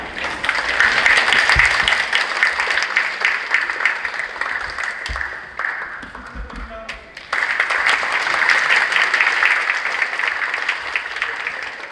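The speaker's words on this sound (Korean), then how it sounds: "여러분 큰 박수로 맞아주시길 바랍니다." Audience applause welcoming a multicultural choir onto the stage at a 2022 migrant choir competition, a large crowd clapping loudly and steadily, dipping briefly in the middle before surging back to full strength.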